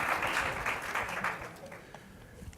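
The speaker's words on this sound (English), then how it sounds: "You can applaud that." An audience at an economics teaching panel breaks into applause, a loud burst of clapping that thins and fades over a couple of seconds.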